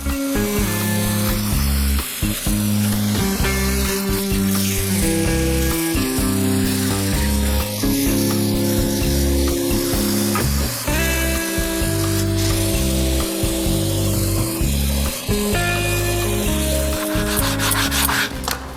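Wooden steering wheel for a 1939 Hudson sanded with sandpaper while spinning on a lathe: loud, continuous rasping friction over a steady motor hum, with the pitch shifting as pressure changes.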